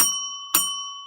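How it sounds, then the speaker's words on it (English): A small bell rings twice in quick succession, each a bright metallic strike with a sustained ringing tone that lingers between them. "Before you go, here's the bell"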